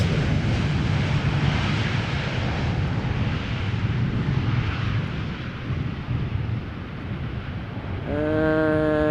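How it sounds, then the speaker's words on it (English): A KLM airliner lands in gusty crosswinds at Amsterdam Schiphol Airport, its reverse thrust producing a loud, sustained jet roar that eases slightly before a fainter tonal engine whine joins at the end. "Meanwhile, the KLM also doing a little wheelie. A little bit of reverse thrust."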